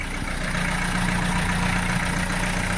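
A boat's inboard engine runs steadily at idle in its exposed engine compartment, a close, continuous droning hum with a low tone throughout and no break.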